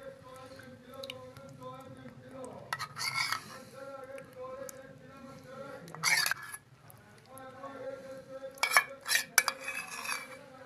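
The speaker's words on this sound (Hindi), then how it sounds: "अब इसमें टेट्रा पैक की क्रीम डाल लेंगे।" Tetra Pak cream goes into a pot of pea and egg curry, with a few bursts of spoon clinks and scraping against the pot over a steady low tonal hum in the kitchen.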